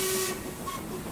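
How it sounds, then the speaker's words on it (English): A steam locomotive whistle sounds loud and close at the start, a sustained steady tone that breaks off after about a third of a second and leaves a hissing wash of steam trailing under a fainter second blast. "it was swallowed by the sound of Murdoch's own whistle"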